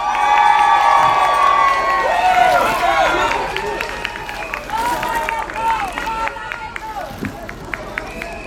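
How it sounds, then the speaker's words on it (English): An outdoor rally crowd for the NHS claps and cheers loudly, with whoops, shouts and a dense wash of voices over sustained applause. "Please give a big round of applause to Daniel Tiplady."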